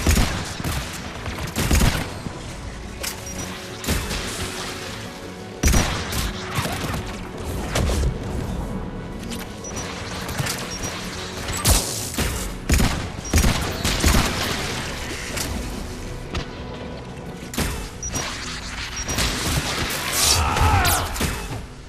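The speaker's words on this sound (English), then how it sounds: "One of us must shut down the anti-aircraft guns, Shepard." Anti-aircraft guns on Rannoch fire in Mass Effect 3, a long barrage of loud, repeated heavy cannon blasts and crashes rolling on for twenty seconds amid battle noise.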